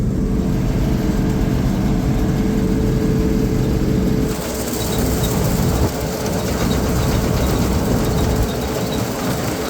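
The engine of an abandoned combine harvester runs loud and steady as the machine drives. Its heavy mechanical rumble and rattle dip slightly partway through, then carry on at full strength. No one talks.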